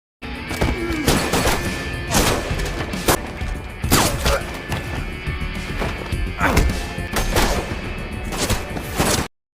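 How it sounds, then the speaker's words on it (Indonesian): Gunfire in a film shootout between a former MMA champion and a mafia boss's men cracks out as repeated loud shots and thuds over a dense, continuous action soundtrack, with no talking. "dan akhirnya baku tembak pun terjadi"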